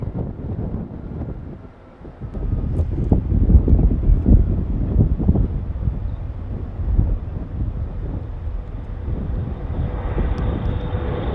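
A huge C-17 military transport aircraft takes off at Charlotte Douglas Airport, its loud engine roar swelling and rumbling continuously alongside heavy wind buffeting on the microphone, with no talk.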